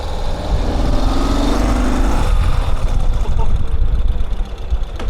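A Ural sidecar motorcycle engine with two-wheel drive drones and revs under throttle, loud and close, with a rough, steady tone while a person talks over it.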